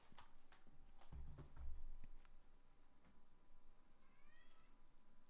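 A house cat named Candice gives a drawn-out meow near the end, quiet and a little distant, preceded by scattered clicks, taps and a low thump in a hushed room.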